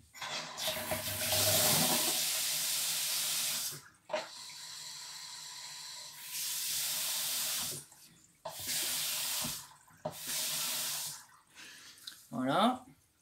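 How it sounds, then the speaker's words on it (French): Water running from a newly fitted mixer tap in a plumbing installation, several bursts of steady rushing flow separated by short pauses, close and fairly loud, with a voice talking at the end. "Je vais tirer un petit peu d'eau au-dessus."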